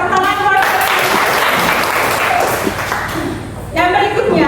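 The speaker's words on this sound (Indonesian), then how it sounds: "tepuk tangan buat" Children applauding during a classroom role-play about jobs, a dense burst of small-handed clapping between stretches of talk, with a voice speaking at the start and end.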